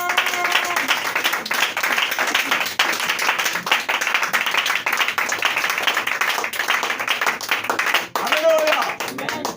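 A church congregation claps together in acclaim of Jesus Christ, a dense, steady run of many hands lasting throughout, loud and close, mixed with voices.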